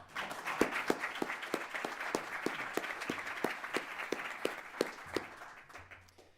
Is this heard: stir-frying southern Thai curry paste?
no